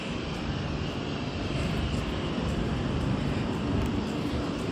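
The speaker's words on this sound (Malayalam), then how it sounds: "Day flight." An airplane flying overhead makes a continuous broadband engine roar, steady and moderately loud, with no talk and little change in level across the stretch.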